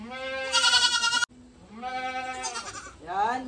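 Goats being dewormed on a farm give loud, close, wavering bleats: one long cry, a sharp break, then another drawn-out bleat rising and falling, with a brief spoken word between.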